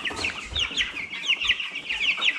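Broiler chickens clucking up close in a poultry house, a busy overlapping series of short clucks and chirps from several birds, with no talk.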